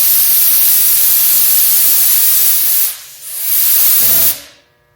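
Spray gun laying clear coat on a car, a loud steady hiss of air and atomized paint that dips briefly near the end, surges again, then cuts off.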